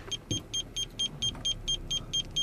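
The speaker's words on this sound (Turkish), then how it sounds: "sensörün sesi çoğalıyor" A Nissan Almera's aftermarket rear parking sensor beeps as the car reverses, giving ten evenly spaced electronic beeps over a faint engine hum, with no voices.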